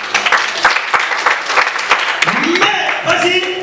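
A church congregation at a worship service claps and cheers in sustained applause, dense and lively, with a voice speaking over the clapping toward the end.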